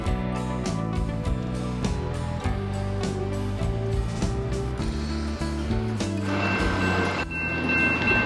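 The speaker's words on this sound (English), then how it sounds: "We're just about to go and cross the crossing and the train's coming." A train rolls past near a railway level crossing, with loud rhythmic clattering of wheels over rail joints and a steady mechanical rumble. A brighter hiss and squeal rises near the end, with no talking.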